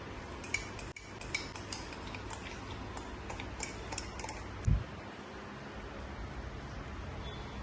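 A spoon stirs cookie batter in a cup with vanilla essence and a pinch of salt, making light, irregular clinks and ticks against the cup over a low steady background hum.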